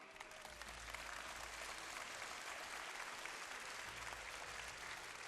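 Applause at the Miss Polski 2007 coronation ceremony, a broad, steady wash of crowd clapping heard faintly and at a distance, sustained without a break.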